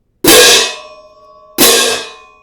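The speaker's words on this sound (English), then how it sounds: "And then spend a lot of time playing crashes and choking them off" Crash cymbals in a march-style technique demonstration, struck loudly twice; the first crash rings then is choked off into a short decay, and the second rings bright until cut off, heard alone.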